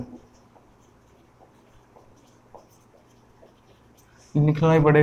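Marker or chalk writing on a board during a surveying lecture, soft intermittent scratching strokes at low level, then a loud burst of voice or other sound near the end.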